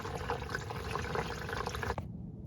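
Used engine oil drains in a steady liquid stream from a 300,000-mile 1989 Ford Ranger, pouring continuously for about two seconds before cutting off abruptly.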